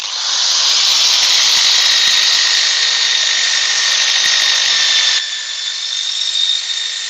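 A power drill running at high speed in a woodturning shop, a loud shrill continuous whine that holds steady for about five seconds, then drops slightly in intensity and keeps spinning.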